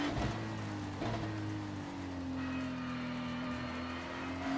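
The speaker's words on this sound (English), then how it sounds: "So going off the audio, it sounds like the rain's got us slightly heavier." Rain falls on the Spa circuit in a racing video game as a steady, dense hiss, with a car engine droning beneath it at a constant pitch and no talk.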